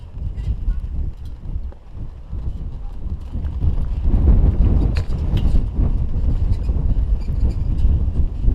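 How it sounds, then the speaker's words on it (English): Blustery wind at Cape Town Cricket Club during an over-50s cricket match, a steady low buffeting rumble that strengthens midway and stays loud, with faint background activity. "This wind is very blustery here at Cape Town Cricket Club."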